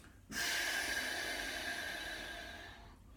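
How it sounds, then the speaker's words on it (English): A long, steady yoga breath exhaled through the mouth, close and clear, starting abruptly and slowly fading over a few seconds with no talking. "So I'll just do the breathing so you can hear it. So it's a exhale."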